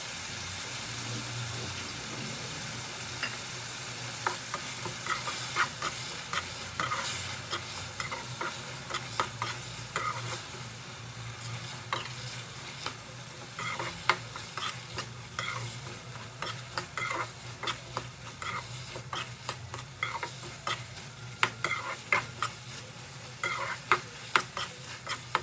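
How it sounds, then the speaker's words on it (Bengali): Noodles being stirred with egg in a frying pan, a soft steady sizzle beneath repeated clicking and scraping of a spatula against the pan that grows busier and more rhythmic over the long stretch. "এবার এতে ডিমটি দিয়ে 3 মিনিট মতো ভালোভাবে সব উপকরণগুলোর সাথে মেশাবো।"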